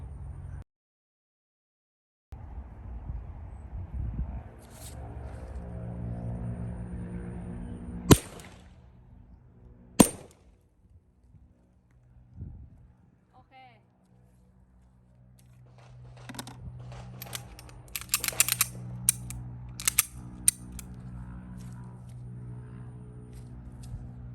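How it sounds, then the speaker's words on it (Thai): Two gunshots fired through a pillow to muffle them, heard as sharp, brief cracks several seconds apart, close, amid quiet handling noise and later clattering sounds. "ยิงไปสองนัดนะคะ ยิงซ้ำจุดเดียวกันรูเดียวกันนะคะ"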